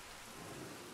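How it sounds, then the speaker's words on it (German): Steady rain pours down in the video game Jurassic World Evolution, a dense continuous hiss of falling water with low rumbling beneath, loud and unbroken with no voices. "Schön im Regen."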